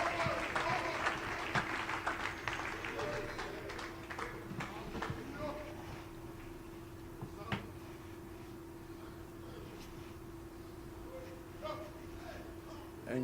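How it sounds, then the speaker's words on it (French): A church congregation applauds in praise, a broad wash of clapping and crowd noise with a steady hum underneath, fairly loud at first and gradually settling into a softer, sustained patter. "Est-ce que vous pourriez donner une acclamation de louange au Seigneur?"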